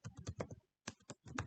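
Computer keyboard typing while entering Java code, a quick run of close, crisp key clicks in two bursts separated by a short pause, with no talk.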